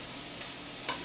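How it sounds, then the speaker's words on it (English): Grilled cheese sizzling in a hot pan, a dense crackling hiss with a brief louder burst near the end. "Oh, I love the sound of that sizzle."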